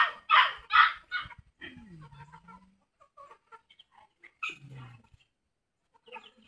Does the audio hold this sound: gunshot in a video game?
no